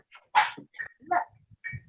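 A dog that has just busted through a door barks several times in quick, uneven bursts indoors, close and fairly loud, mixed with short yips and some faint movement noise.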